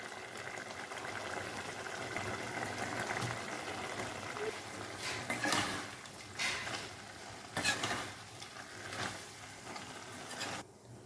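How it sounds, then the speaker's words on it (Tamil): Steady bubbling of liquid boiling in a pan while cooking cauliflower fry, close by, with a few louder stirring or popping bursts toward the end. "நல்லா கொதிக்க ஆரம்பிச்சிருச்சுங்க"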